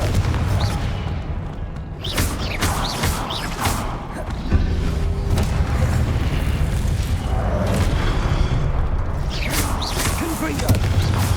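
A Confringo blasting curse in Hogwarts Legacy sets off a sustained, booming explosion, loud and dense throughout, with whooshing spell sounds and a renewed blast swelling midway.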